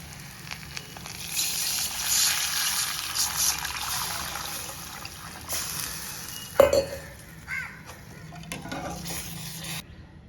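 Water goes into a cooking pot for rice upma, a hissing, splashing rush close by that rises and falls for several seconds, followed by a sharp metallic clink and quieter stirring.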